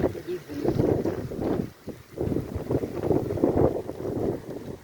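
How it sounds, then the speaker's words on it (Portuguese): Heavy rain with gusts of wind in Jatiúca, Maceió: surging, buffeting gusts roar against the microphone in uneven waves over a low, rushing wash, loud and close. "Chuva com pancada de vento."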